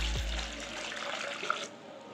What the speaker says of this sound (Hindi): अब इसमें मैं 2 से 3 लीटर पानी डालूंगी